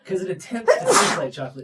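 A single sharp human sneeze bursts out in the middle of a podcast conversation, loud and close, with people talking just before and after it.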